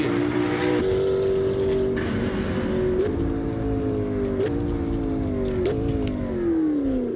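Turbocharged car engine in the Assetto Corsa racing game, droning loud and steady as it climbs through the revs, with brief dips at each gear shift and faint tire noise.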